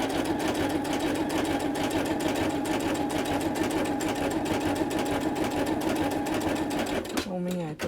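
A domestic sewing machine runs a zigzag stitch on stretchy knit fabric, a steady close mechanical whir with rapid needle chatter that holds continuously, then stops abruptly near the end as a voice begins.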